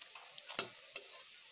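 Night jasmine leaf pakoras fry in hot oil over medium heat with a faint, steady sizzle, broken by two soft, sharp clicks as the fritters are turned one by one; no voices.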